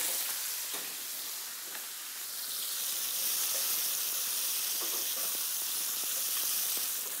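Onion sizzling in hot oil in a pan for a French-style dish, a steady, close, continuous frying hiss with a few soft clicks from stirring and no voices.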